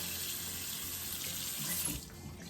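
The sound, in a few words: tap water running over cast iron pan in sink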